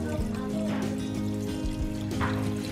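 Water pours from a container into an Instant Pot over pasta noodles and vegetables for an unstuffed pepper pasta, a steady close trickle and splash lasting a few seconds.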